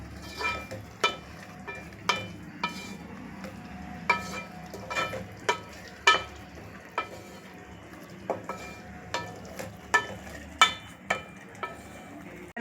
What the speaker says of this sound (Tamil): நல்லா வதக்கிடுங்க. இந்த மசாலையில் அந்த பச்சை வாசனை எல்லாம் போகணும்.